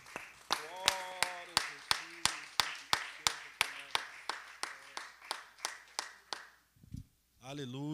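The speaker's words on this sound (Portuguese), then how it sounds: "Aplauda ao Senhor" A church congregation at a Portuguese devotional service claps in a steady rhythm, about two claps per second. A voice is heard briefly near the end.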